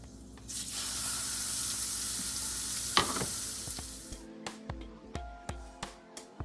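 A small piece of zucchini dropped into hot oil sizzles loudly and close for a few seconds, then the hiss cuts off, leaving a string of light clicks and taps from the pan.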